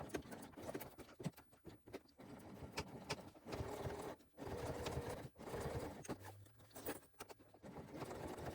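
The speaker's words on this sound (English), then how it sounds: "We'll sew down here, slide it back, and continue along." A sewing machine stitches a crossbody bag in bursts of rapid mechanical whirring, stopping briefly between runs, close and steady with no talk.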